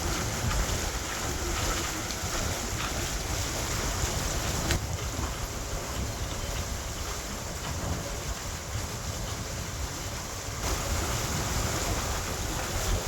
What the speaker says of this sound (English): And that wind is getting a little stronger.